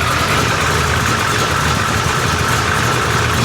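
A 1979 Cadillac DeVille engine running steadily at idle, a loud, even, unbroken rumble up close with no voices.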